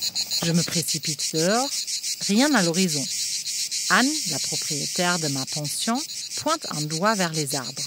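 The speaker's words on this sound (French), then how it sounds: "C'est le chant des cigales" Cicadas singing in trees in Provence make a dense, steady high-pitched drone that runs continuously underneath a narrator speaking in French.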